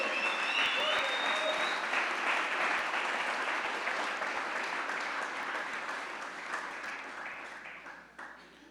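A church congregation bursts into loud, sustained applause honoring God during a worship service, a dense wash of clapping and cheering voices that stays strong before slowly thinning toward the end.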